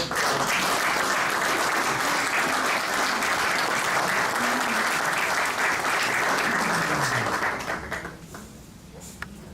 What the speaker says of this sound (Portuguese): com a salva de palmas para não estragar o momento